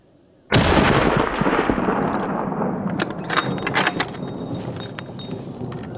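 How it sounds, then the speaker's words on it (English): A rifle shot fired at a bear during a spring bear hunt: one sharp, loud blast with a long rolling echo that decays across the open landscape, with scattered faint rustles following. "Travis was able to make a good clean shot on this bear"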